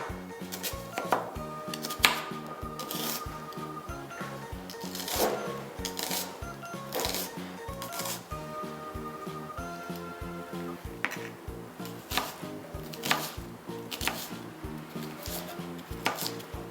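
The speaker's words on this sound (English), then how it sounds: "I'm going to start by cutting up the onion" A knife chops an onion into small cubes on a board while making a chicken wrap, with quick, fairly regular cuts running beneath steady background music.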